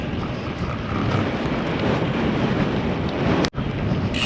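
Strong wind buffets a bicycle rider's microphone on an open road, a loud continuous rumbling roar that runs unbroken and drops out for an instant near the end.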